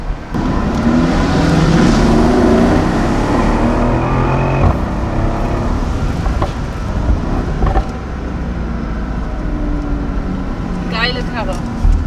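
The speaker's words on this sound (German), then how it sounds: "Also mir gefällt super bei dem SL, dass der so richtig schön knattert, wenn er Zwischengas gibt." A Mercedes-AMG SL on a driving-experience course gives a loud, continuous engine roar with a few sharp crackles and pops as the throttle is blipped, heard close from inside or near the car.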